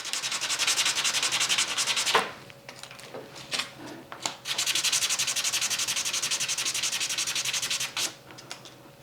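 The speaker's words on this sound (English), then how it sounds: "Now we will hit it with a little sandpaper just to make sure it's nice and smooth." Small wooden tone bars are rubbed hard with sandpaper, giving loud, close, rhythmic rasping strokes. A long run of strokes is broken by a couple of short pauses and scattered scuffs, then the sanding resumes steadily.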